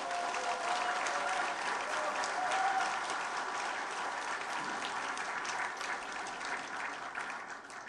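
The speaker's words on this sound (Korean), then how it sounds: "두 분에게 뜨거운 박수를 한번" Crowd applause at a Korean party convention in Jeonju, steady, dense clapping from a large hall audience heard at a distance and running evenly throughout.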